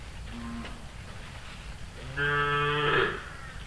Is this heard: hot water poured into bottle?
no